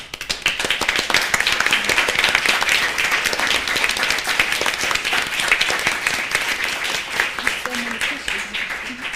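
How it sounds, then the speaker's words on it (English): Audience applause after an opening panel on transformative archives, a steady dense wash of clapping lasting throughout, fairly loud and close, with faint voices underneath toward the end. "A big applause again"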